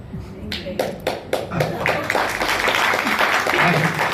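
An audience at a talk by a religious teacher breaks into clapping, starting with a few sharp separate claps and building into a fuller, continuous round, with speech-like sounds mixed in.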